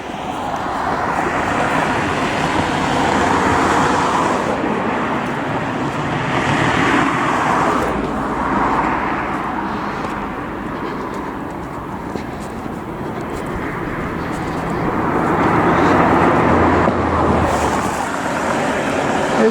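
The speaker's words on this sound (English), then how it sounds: "It's quite busy and the cars are driving quite quickly." Cars pass quickly on a busy country road, each rising to a loud whoosh and fading away in repeated waves of traffic noise heard from the roadside.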